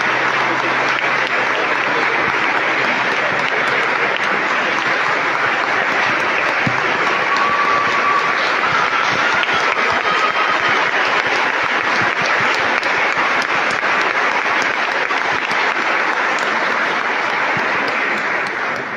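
A church congregation breaks into steady applause during a Holy Thursday service, a dense, sustained wash of clapping that carries evenly and loudly for the whole stretch, with no let-up and no voices standing out above it.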